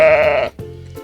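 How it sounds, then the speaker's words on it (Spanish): A lamb gives a bright, wavering bleat up close, then a shorter, lower-pitched call follows after a brief gap, with nothing else around it. "De entre las ovejas apareció una ovejita"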